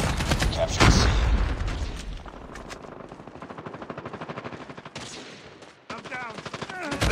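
Rapid bursts of automatic gunfire in a Call of Duty Mobile battle royale match, loud and close, with dense rattling volleys, a heavy blast early on and short pauses between strings of shots.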